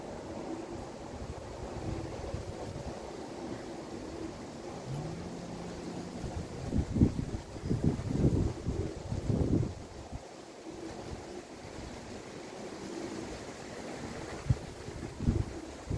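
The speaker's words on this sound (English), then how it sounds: "Very windy day today. Even though it's hot, it's windy." Strong wind buffets the microphone outdoors on a hot day, a continuous rough low roar that swells into heavier gusts midway, with no voices.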